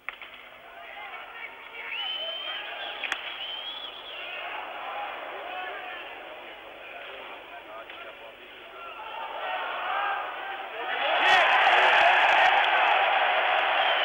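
Crowd at an ice hockey world championship game between Czechoslovakia and Sweden breaks into a premature cheer, a broad roar swelling loudly near the end over steady arena noise and commentary.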